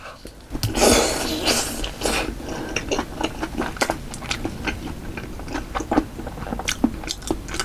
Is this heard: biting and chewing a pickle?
yes